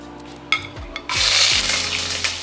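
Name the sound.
ginger sautéed in olive oil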